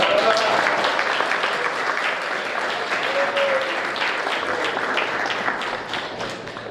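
Sustained audience applause fills a hall at a Third Way party political convention in Płock, Poland, as a team of county council candidates is presented; steady dense clapping throughout, with brief whistles or voices rising over it.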